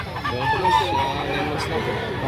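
A young rooster at a Philippine chicken market sends out a short, hoarse crow close by, over market bustle and murmuring voices.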